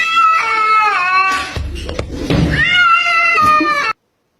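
A cat meows loudly and close, drawn-out wailing cries with rising and falling pitch, broken in the middle by a brief rustling scuffle before a final long yowl.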